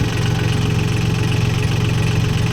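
Solis 26 Indian mini tractor with a front loader running smoothly, its engine a loud, close, steady idle-like drone with even low rumbling pulses throughout.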